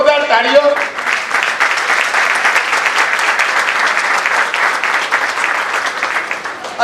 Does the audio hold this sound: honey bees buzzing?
no